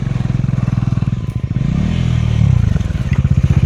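Honda off-road motorcycle on a trials ride, engine loud and close with rapid pulsing firing, revs dipping then climbing under throttle.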